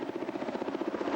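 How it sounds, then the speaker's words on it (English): An RAF helicopter with thermal imaging, flying on a sea search, gives off steady rapid rotor thumps at moderate distance. "the RAF was sending in a helicopter with thermal imaging"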